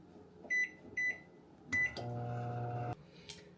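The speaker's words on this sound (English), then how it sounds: "we're gonna pop it in the microwave for 15-second increments" Two short beeps, then a door clunk and a steady electric hum of a microwave oven running for about a second, melting chocolate, before a final beep-click.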